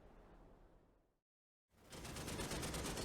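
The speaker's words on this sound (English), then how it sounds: "Unfortunately, the Scorpion uses only the coaxial machine gun." Coaxial machine gun of a Scorpion tank firing in the DCS combat simulator, a faint rumble that fades out, then after a brief silence a loud, sustained rapid burst of gunfire.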